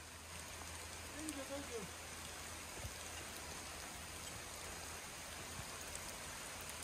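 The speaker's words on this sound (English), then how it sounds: "Rain's picking up." Steady rain falls beside a creek at night, a continuous even hiss of drops and running water, with a faint brief tone early and no speech.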